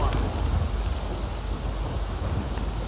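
Steady heavy rain with a low rumbling thunder bed in the Max Payne 2 video game, a dense continuous wash that stays at an even level throughout with no voices over it.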